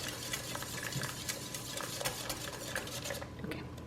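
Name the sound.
beating doughnut batter with egg in a bowl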